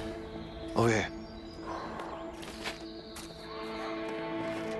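A single horse whinny rises sharply near the start, then fades into a steady ambient background with faint chirps, in a horse barn in the video game A Way Out.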